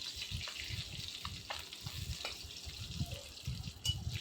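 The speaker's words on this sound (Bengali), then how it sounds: "উল্টে পাল্টে ভালো করে লাল লাল করে ভেজে নিতে হবে।" Pieces of bata fish sizzle in oil in a kadai as they are fried red, a steady soft crackle with faint clinks in a home kitchen.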